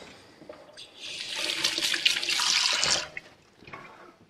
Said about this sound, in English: Now, I generally put water on my hands because the biscuit mix won't stick to my hands when you ball them out.